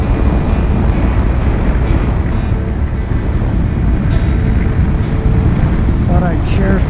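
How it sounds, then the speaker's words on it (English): Strong wind roars across the microphone in a steady, loud rush while riding through the Baja mountains, broadband buffeting covering the whole stretch with no clear talk. "It is windy up here. I apologize about that."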